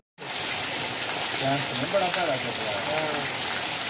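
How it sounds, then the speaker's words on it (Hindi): Heavy stormy rain pours down in a dense, continuous roar of water that starts suddenly and holds steady, while someone speaks over it partway through. "ये हो रही है जी आज की बेहतरीन बारिश।"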